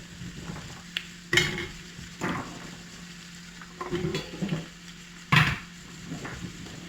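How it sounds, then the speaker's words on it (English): Pumpkin and winter vegetable soup is stirred in a pot after nutmeg goes in, with a few sharp spoon knocks against the pan and soft scraping swirls between them, close and fairly quiet. "And then I'm going to add my nutmeg as well and give it a good stir."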